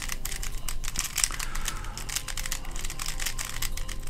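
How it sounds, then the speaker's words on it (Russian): A QiYi MS 3x3x3 speed cube clicking and rattling as its layers are turned quickly, a steady run of dense plastic clicks close up with no talking. "Повращаем еще, чтобы послушали звук"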